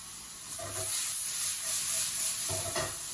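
Onions fry in a pan with a steady sizzle and hiss, with occasional stirring scrapes rising in the middle and near the end, and no voices.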